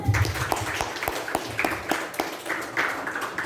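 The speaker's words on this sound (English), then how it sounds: "Give him a thunderous round of applause" An audience applauds a speaker at an evening speech event, producing a continuous, crackling round of clapping with sharp individual hand strikes throughout.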